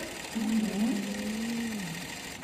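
An industrial sewing machine stitches with a steady motor whir that runs for about two seconds, set to backstitch at the start and end of the seam, with a voice talking over it.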